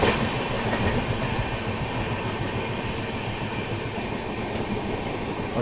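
Steady rumbling roar of the Bhubaneswar Duronto Express running on the tracks toward Ghaziabad, with continuous wheel clatter and a dense low drone throughout, loud and unbroken, heard from inside the moving train.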